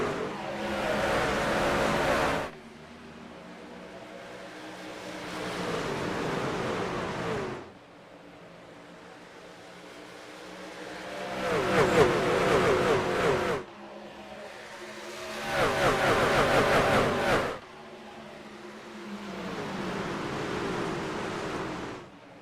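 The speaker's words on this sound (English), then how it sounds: "Green flag in the air, racing from Nashville." Race trucks in a Nashville truck-series race roar as they accelerate at a green-flag restart, loud engine bursts rising and falling in waves as the pack passes, with no talking.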